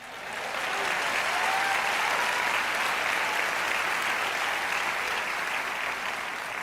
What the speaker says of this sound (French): Allez, acclamons le Seigneur.